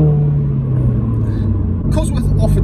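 A Toyota GT86 with a Cosworth supercharger runs its engine in a loud, close, steady rumble with a deep tonal drone, and a person starts talking over it near the end.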